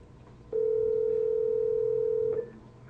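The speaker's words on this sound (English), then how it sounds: "Why don't we get Sean on the phone?" A telephone dial tone sounds as one steady, loud, continuous hum lasting about two seconds, then cuts off, with faint room noise before and after.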